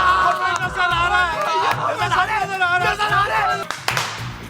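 Hands clapping to summon a genie in a comedy skit, several quick claps mixed with excited voices and chatter, close and loud.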